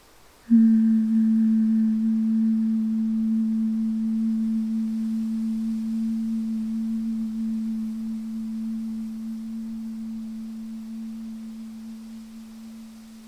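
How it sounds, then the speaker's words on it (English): A single low, steady hum from a voice during bee-breath meditation is held for over ten seconds, starting abruptly and slowly fading, in a quiet room. "make a humming sound."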